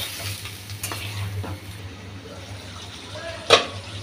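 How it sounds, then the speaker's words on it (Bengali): Spiny gourd frying in spice paste gives off a steady, soft sizzle over a low hum, with a single sharp clack of the spatula near the end. "এখন এই মশলার মধ্যে আমি কাঁকরোলটা 2-3 মিনিট পর্যন্ত ভেজে নেব।"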